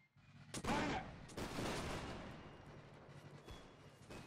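Musket volleys in the Mount and Blade Whigs and Tories mod during a Bunker Hill battle: a ragged crackling fusillade bursts out, followed by scattered separate shots and a rolling echoing tail, with a distant boom near the end.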